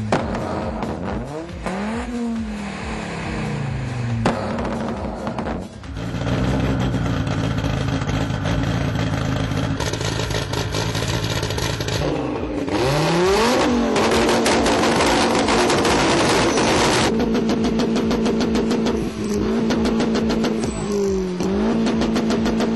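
Audi cars rev their engines in an engine-sound contest at an Audi club meet in Lithuania, producing repeated loud, close rising and falling revs with sustained high-rpm stretches and short pauses between bursts.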